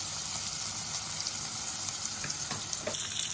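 Freshly caught crabs fry in a hot pan with a steady, close, loud sizzle and crackle, with occasional sharper pops and no talking.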